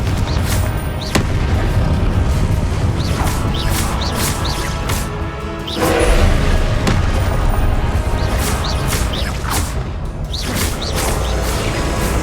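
Confringo fire-blast spell in Hogwarts Legacy, heavy booming explosions repeating over a loud, dense rumble of combat noise, with sharp crackling bursts scattered throughout.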